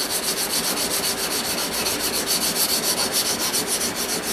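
Steel knife blade flats rubbed by hand with sandpaper, a steady close scraping made of rapid back-and-forth strokes in an even rhythm, loud and continuous with no talking.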